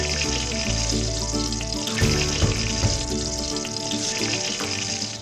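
Eggplant frying in hot oil in a home kitchen, a loud, continuous sizzle with stirring scrapes throughout and no voices.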